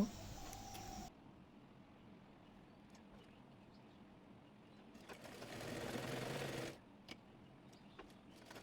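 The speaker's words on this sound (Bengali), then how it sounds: "একইভাবে অপর পাশের কাঠটিও সেলাই করে নেব" A sewing machine stitches a round dress, its motor buzzing in short bursts between quiet pauses, fairly faint and close.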